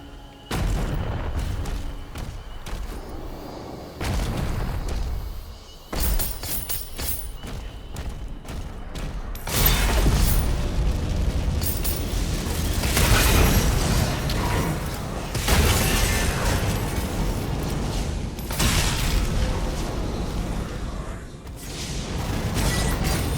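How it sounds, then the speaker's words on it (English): Heavy booming cannon blasts and thuds from a watchtower recur through a dense, loud Doom: The Dark Ages game soundscape, with sharp bursts standing out against a constant low rumble. "The cannons in the watchtower can clear a path."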